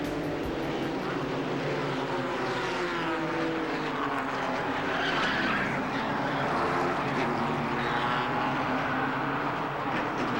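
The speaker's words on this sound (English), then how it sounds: "Resembling a train wreck, 13 cars go sprawling across the Charlotte Motor Speedway after the mishap in turn 1." Stock cars roar and skid through a multi-car pileup in turn 1 at Charlotte Motor Speedway, a dense, continuous engine and tire roar that swells loudly and holds steady throughout, with no talk.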